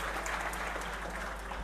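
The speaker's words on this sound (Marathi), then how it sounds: "थोडा महिलांचा प्रश्न घेतला म्हणून टाळ्या जास्त वाजल्या." A crowd at a farmers' rally on a land-rights issue applauds, a soft, steady patter of many hands heard from a distance at low volume.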